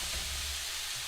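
Chorizo sizzles in a preheated skillet, a steady close broadband crackle and hiss holding at an even level for about a second with no talk over it.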